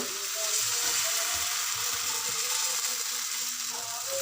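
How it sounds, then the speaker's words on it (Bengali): Rice flour batter for saru chakli sizzles in a hot pan, a steady, even hiss that fills the whole stretch at moderate volume. "আমি আবারও ব্যাটারটা দিয়ে দেবো দু চামচ ব্যাটারটা দিয়ে এটাকে ধুইয়ে নেব"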